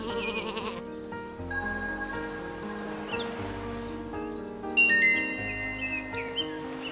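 Sheep bleating in the video game Isle of Ewe, several bleats over a steady background music bed, moderately loud and close.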